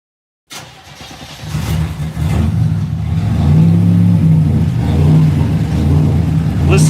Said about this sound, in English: Let's fire this thing up.